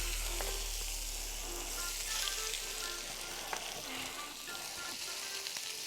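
A fish fillet, a sea bass loin, frying gently in a pan in a restaurant kitchen gives off a steady, even sizzle, with a faint low hum underneath and a few small clicks, and nobody talks.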